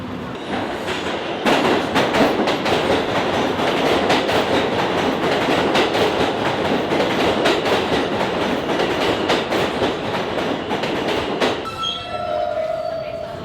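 Steady loud rumble of a New York subway train in motion, with rhythmic wheel clatter on the rails throughout and a brief high squeal near the end.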